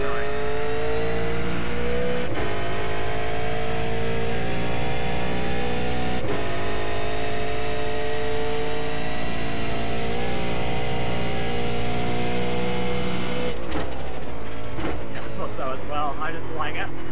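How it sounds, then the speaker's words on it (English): A Holden Commodore VF race car in the iRacing simulator screams through a hot lap, its engine loud and sustained with brief dips at gear shifts and a rising pitch toward the end. "We'll see how this hot lap goes, whether we do wall it or not."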